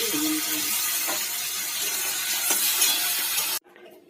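Shrimp frying in hot oil in a wok, a loud, dense, continuous crackling sizzle that cuts off abruptly near the end to near quiet.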